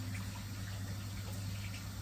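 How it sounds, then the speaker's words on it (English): Water being poured into a cooking pot holding kale, a steady, continuous rush of liquid at close range with no talking. "So I'm putting some water."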